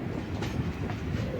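The Kozhikode Jan Shatabdi Express rolls along the rails near Alappuzha with a steady, dense rumble and soft clickety-clack, heard from inside the moving train.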